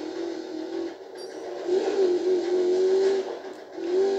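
A Ford Mustang GT driven in the racing game Need for Speed Payback, its engine droning steadily with rising and falling revs, loud and close throughout.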